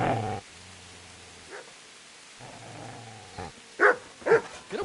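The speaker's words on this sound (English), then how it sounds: "Get away, you mutt!" Dog growling at a man, low rumbling growls alternating with short pauses, then a couple of sharper barking yelps close by.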